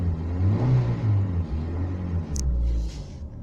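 A 2000 Renault Twingo Alize engine idles steadily up close, a low continuous rumble with a brief sharp click partway through.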